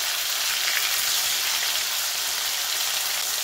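Paneer cubes fry in hot oil for kaju paneer masala, giving a steady, dense sizzle that holds evenly from start to finish, close and fairly loud, with no voices.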